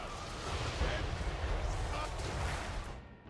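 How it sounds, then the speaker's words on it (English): A Hell Cannon firing during a battle in the video game Total War: Warhammer III, with dense, loud, continuous battle noise and low rumbling booms throughout, fading near the end. "we're shooting the Hell Cannon"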